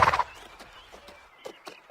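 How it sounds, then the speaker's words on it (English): A horse being led round to the stables gives a short, loud whinny at the start, then soft, scattered hoof clops follow at a moderate distance. No one speaks. "Take the horse round to the stables."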